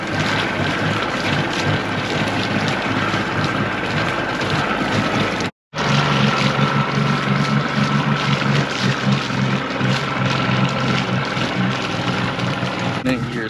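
A two-stroke outboard boat engine runs loudly and continuously during a flush, with a steady droning rumble broken by a brief dropout midway, and people speak over it.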